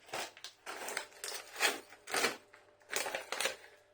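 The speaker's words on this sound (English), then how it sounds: "I've got my trusty scissors to hand so I can cut it open." Scissors snip through a small plastic snack bag of M&S Mini Munch festive mix, a series of close, crisp crinkling cuts in uneven bursts with short pauses between them.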